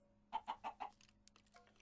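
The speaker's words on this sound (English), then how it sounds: "Those are chickens!" Chickens in a Minecraft-style block video game give a quick run of four clucks, then fainter scattered clucks, near and alone with no talk.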